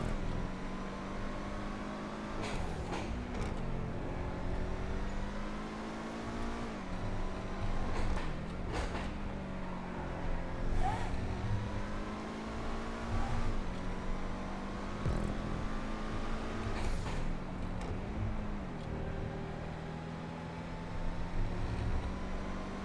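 Schlagen GT sports car driven in GTA 5, its engine droning steadily with repeated rev dips and rises through shifts and cornering, fairly quiet and with no talk over it.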